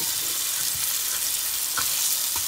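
Courgette stuffing cooking in a hot pan, a continuous loud sizzle with occasional soft stirring scrapes.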